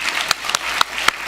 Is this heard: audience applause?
yes